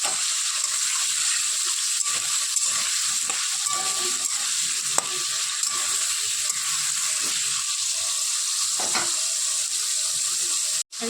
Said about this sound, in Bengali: এখন এই ডুমো ডুমো করে রাখা আলুগুলোকে তেলের মধ্যে ভেজে নেব।